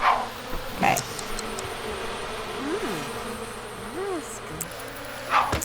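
Bees buzzing in The Sims 3, a steady insect drone with a few swelling passes over quiet game ambience, moderately loud and continuous without talk.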